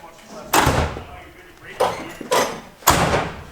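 Car door on a quad turbo Honda Civic being shut, with several loud thuds spaced through the clip, close by in a garage and overlapping with people talking.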